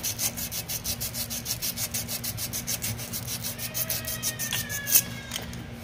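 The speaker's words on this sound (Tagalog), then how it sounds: "Gagamit lang tayo ng maliit na liha para malinisan natin yung ating capillary tube." Small sandpaper rubbing back and forth on a chest-type freezer's copper capillary tube, a steady close scraping rhythm of quick repeated strokes with a faint electrical hum underneath.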